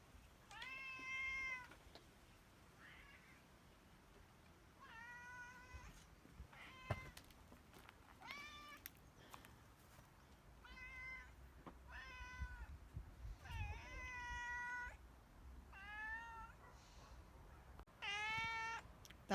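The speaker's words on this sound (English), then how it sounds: "Are you meowing at that dog?" A cat meows repeatedly outdoors during a county-wide power outage in Humboldt County, California, a series of clear, fairly quiet drawn-out meows spaced a second or two apart over faint background noise.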